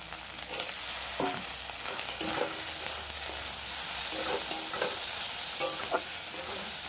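Tomatoes frying in a hot pan give a steady sizzle, punctuated by repeated scraping stirs and occasional clinks from the utensil, close and fairly loud, with no talking.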